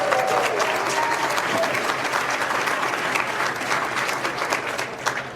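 Audience at a political talk in Delray Beach, Florida breaks into dense, sustained applause, loud and steady throughout, with no voice above it.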